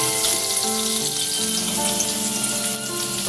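Potatoes cut into long strips frying in the oil left from frying pointed gourd, giving a steady, close sizzle that runs evenly throughout, overlaid by faint background music, with no speech.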